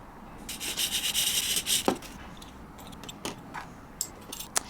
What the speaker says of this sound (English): This blade sharpener does work for the Olgas